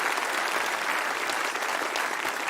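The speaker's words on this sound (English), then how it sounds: "Can we give them a round of applause?" Audience applause at an electrical lineworker program graduation ceremony, dense and even clapping from a large crowd sustained throughout with no speech over it.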